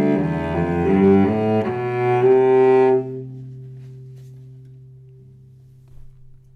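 A brief melodic phrase in the Adonai Moloch mode with a raised seventh, played as rich sustained notes for about three seconds, then a low held tone that fades slowly with no talking.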